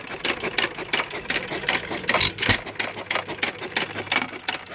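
A 100-year-old engine runs at idle with a fast, even ticking and clattering rhythm, moderately close and steady, with one sharp louder knock partway through.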